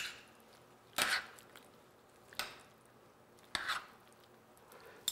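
Braised chicken (jjimdak) ingredients are tossed with softened glass noodles in a hot pan, giving three separate wet squishing scrapes with quiet pauses between them, close and moderately loud.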